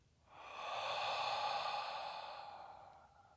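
A single long, audible exhale during breathwork practice, a soft breathy whoosh that swells in over a quarter second, holds steadily for about two seconds, then fades out, close and without speech.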